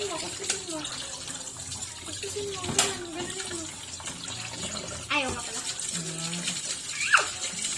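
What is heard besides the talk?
water splashing while washing dishes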